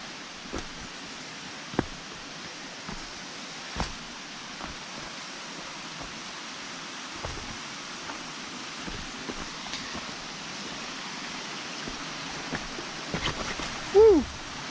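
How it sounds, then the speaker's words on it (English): Two small streams meet along a trail near the Blue Ridge Parkway, giving a faint, steady rushing of water with scattered light clicks and taps. "we got a couple little streams meeting up together here"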